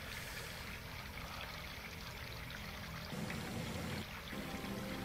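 Water trickles and pours continuously in the Doom mod MyHouse.WAD, a steady close stream that briefly grows louder and fuller partway through.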